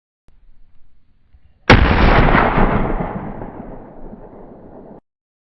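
Single sharp rifle shot fired during a hunt, a loud sudden crack at close range followed by a long rolling echo that fades over several seconds in open country.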